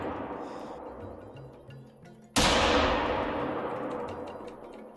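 A single loud 30-30 rifle shot rings out in the hunting video game theHunter Call of the Wild, a sharp crack followed by a long fading echo over quiet ambience.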